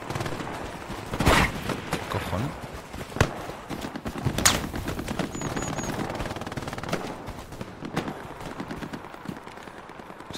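Gunfire rings out in the World War II shooter Hell Let Loose, a scattered mix of single shots and short bursts at middle distance with a few sharper cracks, under steady battlefield ambience.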